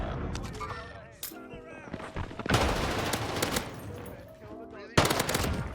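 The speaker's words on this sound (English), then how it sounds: "I hear a gunfight upstairs" Rapid video-game gunfire from a Warzone battle, bursts of automatic fire and scattered shots crackling at mid distance, dense and continuous with a sharp loud burst near the end.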